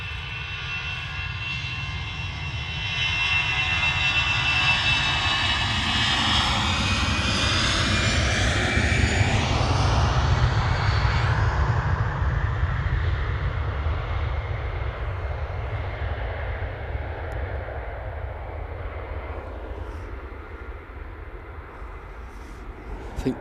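A passenger plane's engines at Manchester Airport roar loudly as it passes close by on an evening plane-spotting outing, the sound swelling to a peak midway and then fading slowly into the distance.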